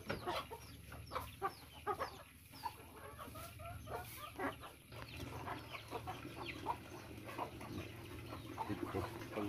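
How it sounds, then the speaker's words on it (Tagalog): Chickens and chicks cluck and peep in a farmyard, a steady scatter of short calls near and far over a low background hum, with no talk. "Ayan, mga sisiw."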